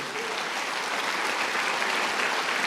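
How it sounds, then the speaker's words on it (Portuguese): A church congregation applauds, dense and continuous clapping from many hands filling the room at a steady level, with no voices standing out. "Pode aplaudir o Senhor."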